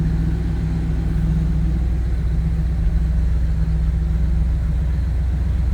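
A 1970 Dodge W200 Power Wagon crew cab 4x4 idles steadily just after a cold start, its engine giving a loud, even, low rumble that holds for several seconds with no talking.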